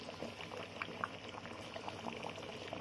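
Broiler chicken roast gravy of spiced oil reduces on medium-low heat, giving a soft, faint, continuous bubbling and popping sizzle.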